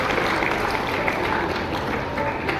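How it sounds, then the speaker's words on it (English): Dense, steady applause from an audience at an Independence Day school celebration, a continuous loud wash of many hands clapping without pause. "A huge round of applause, student."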